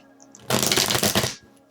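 A deck of tarot cards is shuffled once, close up, in a single riffling burst lasting about a second against a quiet room.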